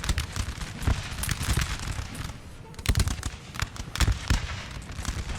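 Rapid volleys of artillery and musket fire crackle and boom across a Napoleonic battlefield in a 4v4 strategy game, dense overlapping bursts rolling on steadily without pause.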